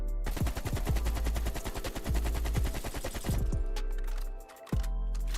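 A base AK-47 with no attachments firing in Call of Duty: Black Ops Cold War, a long rapid automatic burst of loud, evenly spaced shots, then a brief pause and a single further shot.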